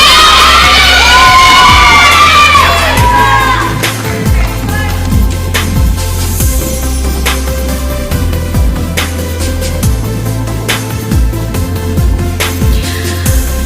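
Crowd at a pageant cheering for contestants, loud shrieks and whoops at first, settling into ongoing cheers, claps and scattered shouts.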